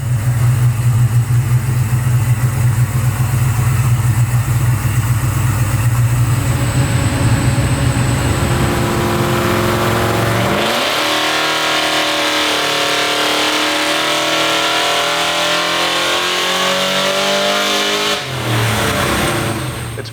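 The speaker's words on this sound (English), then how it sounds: "Can't beat the sound of a Holden V8, so let's give it a run on the dyno." Harrop-supercharged 5-litre Holden V8 in an HSV SV93 Statesman running on a dyno, a loud sustained engine roar that climbs steadily in pitch through the revs, then drops back near the end, with no talk.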